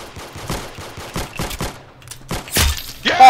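Rapid candy musket shots in Roblox Arsenal, a burst of sharp reports spaced unevenly, then a louder crack and a ringing tone near the end.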